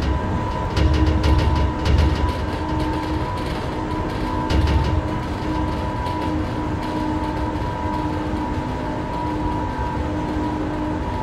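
A train passes in the SimRail simulator on a Polish railway line near Sosnowiec and Olkusz, heard as a loud rumbling, clattering roar that swells early and then settles into a steady drone with a sustained tonal hum, with no talking.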